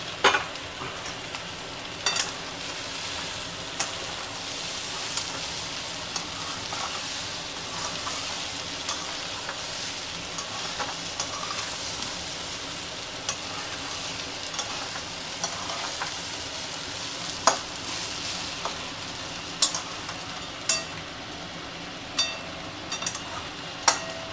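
Chicken chow mein stir-fried in a pan, a long steady sizzle at moderate level with frequent clicks and taps of a utensil tossing the noodles.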